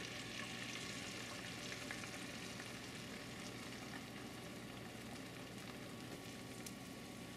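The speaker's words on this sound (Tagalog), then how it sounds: "Dahan-dahan lang natin ibubuhos itong mixture o yung binati na itlog." Beaten egg being poured into a hot pan for Filipino longanisa fried rice, frying with a steady, close, dense sizzle that stays even throughout with no voices.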